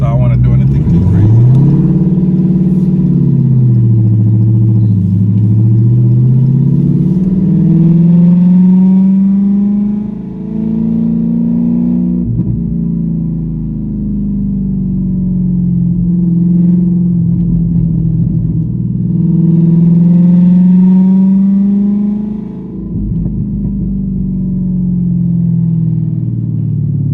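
Car fitted with a Mantic triple disc clutch and 2-step launch control, its engine droning loud and close as revs rise and fall in slow waves, with someone talking over it.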